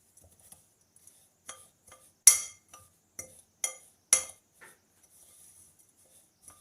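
Spoon mixing ingredients for a crunchy breakfast energy galette in a bowl, giving a series of light clinks and taps at irregular intervals, close and quiet with silence between strikes.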